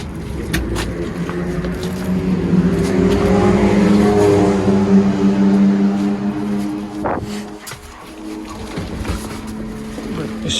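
A Deutz 6205 tractor's diesel engine turns over and settles into a steady, loud rumbling idle that runs throughout, with a brief dip before it picks up again.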